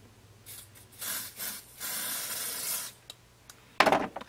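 A Morphe Y6 brush buffs Diorskin Airflash spray foundation across a face, making a soft, close brushing rub that swells and fades in strokes, followed by a short sharp hiss of spray near the end.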